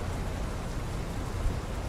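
Rain falls in Euro Truck Simulator 2, a steady, even hiss of drops on a surface with a low rumble beneath, no voices.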